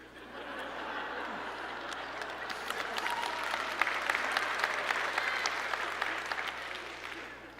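Church congregation applauding during a sermon, a dense wash of clapping from a sizeable crowd that swells and holds, with scattered chuckles mixed in.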